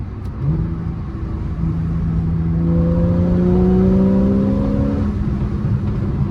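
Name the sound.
Porsche 911 sports exhaust engine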